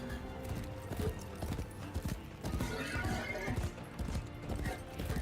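Horse hooves clip-clop in a steady, rapid rhythm in the Warframe Duviri Paradox video game, the galloping beat continuing throughout over game ambience.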